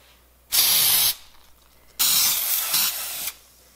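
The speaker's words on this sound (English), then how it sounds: "We gotta spray it with cooking spray." Cooking spray hissing from an aerosol can into an Instant Pot cake dish, two loud close bursts, the first about half a second, the second longer at over a second with a slight change midway, with quiet pauses around them.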